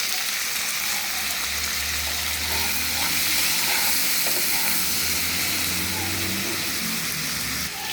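Beans and potatoes seasoned with salt and turmeric fry in a pan, giving a loud, constant close hiss and sizzle that stays steady throughout with no talking.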